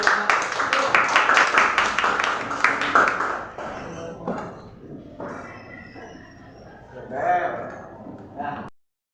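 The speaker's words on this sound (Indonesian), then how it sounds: "kita beri tepuk tangan dan silakan duduk kembali" A classroom claps for a student group finishing its presentation: brisk, close applause from a small audience for about three seconds. It then fades into quieter talk.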